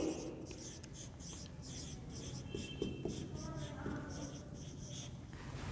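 A teacher writes prepositions on a classroom board, chalk scratching in short repeated strokes, faint and steady under a quiet room background.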